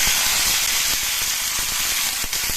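Mustard seeds, curry leaves, garlic and dried chili fry in hot oil as a tempering for bitter gourd pickle, giving a loud, dense sizzling hiss studded with scattered crackles and pops, with no talk.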